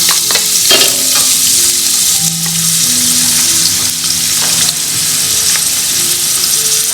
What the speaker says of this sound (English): I'm going to temper the onions first